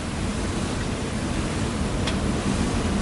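A strong wind gust buffets a sailing boat in an unbroken broadband roar, loud and close, with water wash mixed in for the whole span.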